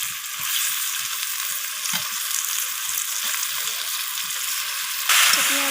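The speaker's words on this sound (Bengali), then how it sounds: "পেঁয়াজের সাথে আমি চিকেনটাকে ফ্রাই করে নিচ্ছি।" Chicken frying with onions and tomatoes over a wood-fired stove, a steady close sizzle running throughout with soft stirring scrapes, growing louder and brighter near the end.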